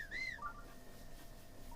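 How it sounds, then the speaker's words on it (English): Link whistles while running in Zelda Breath of the Wild, a faint, thin rising-and-falling whistled tone that repeats briefly over quiet background game sound. "And back to our delightful whistle running."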